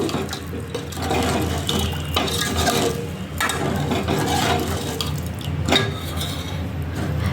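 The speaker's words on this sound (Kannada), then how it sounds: "ನೀರು ಹಾಕ್ಕೊಂಡು ಹಿಂಗೆ ಮಿಕ್ಸ್ ಮಾಡ್ಕೋಬೇಕು" Horse gram sambar stirred with added water in a pot, giving continuous sloshing, gurgling liquid swirls with small drips and splashes, close by and steady throughout.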